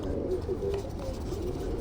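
Low, soft pigeon cooing close by over a steady background hum.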